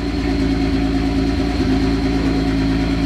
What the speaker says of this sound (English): First little startup and runs. The car idled pretty good.